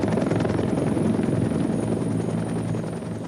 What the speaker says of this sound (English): As soon as the helicopter arrived, Rick was loaded on board for the 20-minute